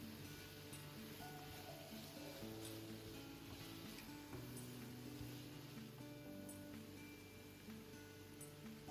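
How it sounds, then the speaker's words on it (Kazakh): Onion and carrot fry in oil with a faint, steady sizzle. The hiss stays even and unbroken throughout, with no talking over it. "ол үшін пияз бен сәбізді майға қуырамын, томат қосып"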